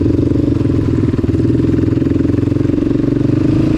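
Two Yamaha Raptor ATVs, a 2020 Raptor 700R and a 2006 Raptor 700, drag racing at Carolina Adventure; a loud, steady engine drone with rapid rhythmic pulsing holds close and continuous throughout.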